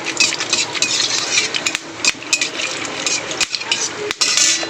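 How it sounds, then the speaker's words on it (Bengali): Whole garam masala stirred into hot oil in a wok, with steady close sizzling and frequent metallic scrapes and clinks of a spoon against the pan, no talking. "এখানে দিয়ে দেবো গোটা গরম মশলা।"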